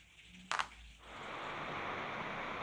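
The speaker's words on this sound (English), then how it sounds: "Right, it's raining hard." Heavy rain falls outdoors, a dense steady hiss that swells in after a brief sharp knock near the start and then holds evenly, fairly loud with no voices.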